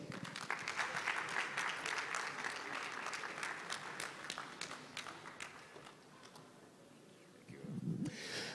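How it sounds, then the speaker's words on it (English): Audience applause at an international e-learning conference, a steady spread of clapping that holds for several seconds before thinning out, with a brief low voice or rustle near the end. "A round of applause for her again."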